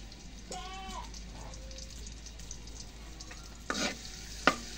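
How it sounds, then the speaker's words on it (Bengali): Garlic and onion frying in oil give a soft, steady sizzle in the background, with a cat meowing early on and a couple of sharp utensil clinks near the end. "এই যে রসুন পেঁয়াজ দিলাম, এখন এই যে তেলটা দিলাম"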